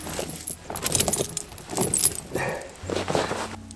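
A vehicle creeps forward onto tire chains draped over its tires, giving jangling metallic chain clinks and rattles over a low engine rumble, close and fairly steady throughout.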